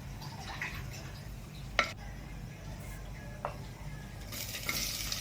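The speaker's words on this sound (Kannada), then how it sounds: "ಪಲಾವ್ ಎಲೆ ಲವಂಗ ದಾಲ್ಚಿನಿ ಹಾಕಿ ಎಣ್ಣೆಯಲ್ಲಿ ಸ್ವಲ್ಪ ಫ್ರೈ ಮಾಡಬೇಕು" Bay leaf, cloves and cinnamon fry in a little oil, giving a faint low sizzle broken by a few sharp taps and clinks of a utensil against the pan, quiet and close.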